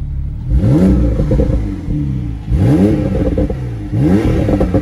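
Porsche 991 Targa 4S with a warm flat-six biturbo engine revs up three times in close succession, each loud rising blip falling back toward idle.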